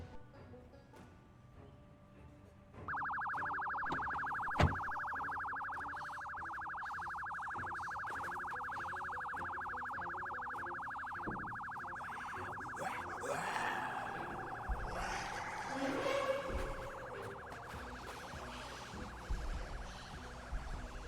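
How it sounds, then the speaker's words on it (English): A vehicle siren in the Project Zomboid video game switches on and wails steadily in a loud, continuous electronic tone, with thumps and other alarms joining toward the end. "let's turn on the sirens and just leave"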